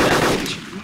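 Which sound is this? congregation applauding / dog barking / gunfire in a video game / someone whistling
gunfire in a video game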